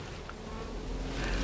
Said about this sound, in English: We're just going to take these over here because these are nurse bees.